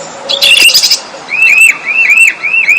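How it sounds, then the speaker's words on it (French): A small bird chirps in a children's storybook show, starting with a brief sharp tweet followed by a quick series of repeated, rising chirps, close and clear with no voices over it. "C'est alors qu'un oiseau se présenta devant la princesse."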